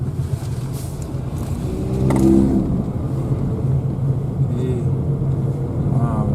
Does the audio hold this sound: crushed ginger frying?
no